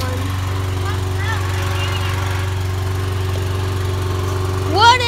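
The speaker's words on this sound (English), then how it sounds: "mowing the lawn today" A lawn mower engine drones steadily and loudly nearby with a constant low hum throughout, while high voices chirp faintly over it and one rises near the end.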